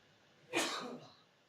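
A single sharp sneeze bursts out close and loud, with a short breathy tail fading over about half a second and no talk around it.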